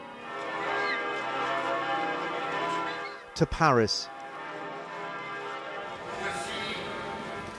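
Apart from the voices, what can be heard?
cathedral church bells tolling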